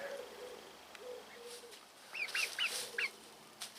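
Roosters cluck in short bursts of two or three close, high calls over a quiet outdoor background, with a faint voice underneath.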